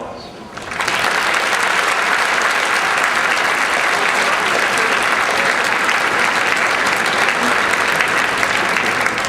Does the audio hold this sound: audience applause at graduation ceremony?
yes